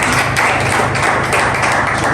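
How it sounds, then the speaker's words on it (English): An audience applauds a speaker at a talk on digital innovation for humanitarian work: dense, steady clapping from many hands that fills the whole moment at a constant, fairly loud level. "I want you to just please clap for her"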